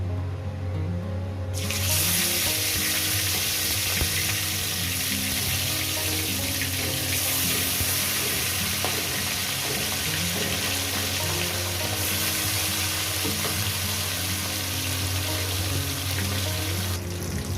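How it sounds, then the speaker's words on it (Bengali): Pieces of catla fish fry in hot oil, giving a loud, steady, close sizzle and crackle that runs for the whole stretch without any voices. "তেলটা আমার গরম হয়ে গেছে এরপর এক এক করে দিয়ে দেবো মাছের পিসগুলো"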